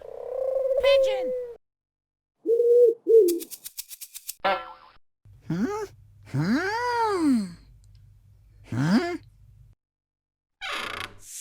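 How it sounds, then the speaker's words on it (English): A toy animal sound for a pigeon plays from a surprise egg: a short synthetic cooing call, loud and close, amid other brief toy sound effects and bursts of playful voice. "Pigeon."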